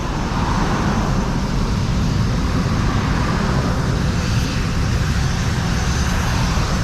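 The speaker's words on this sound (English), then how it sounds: "So the plane's coming right over the water." A loud, steady roar of a jet aircraft engine passing overhead on landing approach over water at Princess Juliana Airport, St. Maarten, constant and close throughout with no voices.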